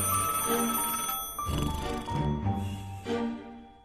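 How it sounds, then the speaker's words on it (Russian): A telephone rings with a bright, insistent bell tone in repeated bursts, filling the room, with a voice and a few thumps beneath it. "Телефон звонит."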